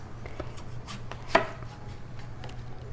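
A knife cuts through a Roma tomato on a board for salsa, with one crisp chop standing out over a low hum and a few soft taps, close and without any talk.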